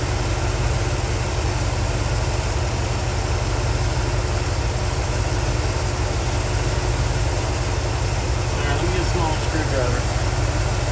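A 1972 Buick Skylark engine idles steadily with a deep, continuous low rumble, close and constant, under the tune-up with added timing.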